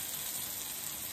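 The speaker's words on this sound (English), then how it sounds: "as you can hear, our green beans are starting to sear" Green beans searing in a hot pan give off a steady, faint, close sizzle with no talk over it.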